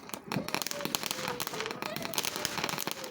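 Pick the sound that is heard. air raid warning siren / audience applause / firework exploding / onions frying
firework exploding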